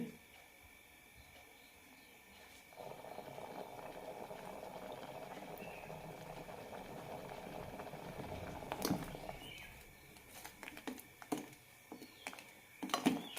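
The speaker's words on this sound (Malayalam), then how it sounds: "കറി തിളയ്ക്കാൻ തുടങ്ങിയിട്ടുണ്ട്" Ash gourd and raw mango curry bubbles in a pot, a soft steady boiling rumble that starts a few seconds in, followed by a few clinks and faint handling sounds near the end.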